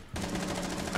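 Rapid automatic gunfire in the video game Rainbow Six bursts in abruptly and continues as a dense, loud stream of shots for about a second.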